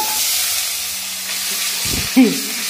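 Capsicum frying in a little butter in a pan, a steady close sizzle and hiss throughout, with a brief clank or stir near the end.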